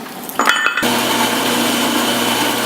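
Grinding on steel tubing while building a bandsaw mill, a loud steady whine starting after a few brief contacts and then running continuously and close.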